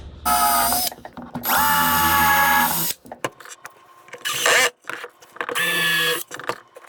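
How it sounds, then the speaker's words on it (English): A power drill drives screws into the bottom of cherry wood boxes, whining loudly in several bursts of a second or two separated by short pauses and faint handling clatter. "I'm just going to put some screws in from the bottom."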